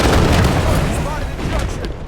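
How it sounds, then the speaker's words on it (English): Gunfire and booming blasts from a Halo 5 multiplayer match, a dense, continuous wash of shots and explosions running loud throughout with no pause. "Hostile fire."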